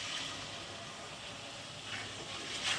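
Tomato and cashew paste hitting hot masala already fried with ginger and garlic in a pan, giving a steady close sizzle and hiss that rises slightly at the end, with no voices.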